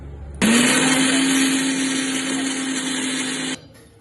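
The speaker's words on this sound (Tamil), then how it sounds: "சிக்கன் மசாலாவுக்கு நல்லா ஆற வச்சு அரைச்சி எடுத்துடலாம்." A mixer grinder whirs loudly at full speed, grinding cooled roasted chicken masala spices, starting abruptly, holding a steady high-pitched drone for about three seconds, then cutting off.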